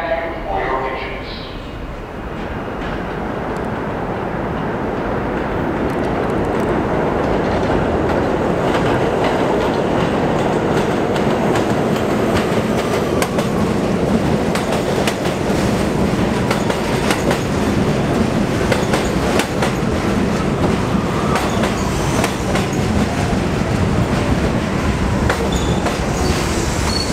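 A vintage train rolling along rails, with a continuous heavy rumble, rhythmic clacking and occasional metallic squeals building over nearly half a minute.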